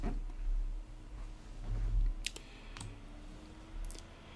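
Sharp mouse clicks in motor current signature analyzer software on a computer, a few quick clicks near the end, faint and close over a low room hum.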